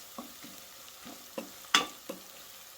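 Onions fry in a pan for aloo bharta, a quiet sizzle punctuated by six or so soft spoon scrapes, one louder clattering knock near the end, and no voices.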